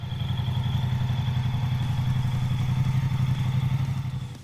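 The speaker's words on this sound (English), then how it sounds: "Moto Guzzi, the V100 Mandello S 2023." Steady pulsing engine of a 2023 Moto Guzzi V100 Mandello S motorcycle, a close, even low throb with a faint whine above, running alone without talk.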